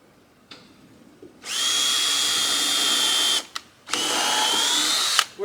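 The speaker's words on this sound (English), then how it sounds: "First, we're just going to drill a little pilot hole through the 2x4." A power drill bores a pilot hole through a 2x4 on a goat barn wall, whining loudly in two sustained bursts with a short pause between them.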